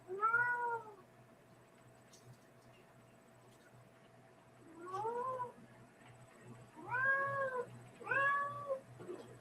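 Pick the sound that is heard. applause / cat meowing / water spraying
cat meowing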